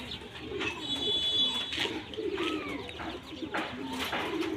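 Pigeons coo in low, rolling bursts at close range, with a few chirps and a steady background murmur and no talk.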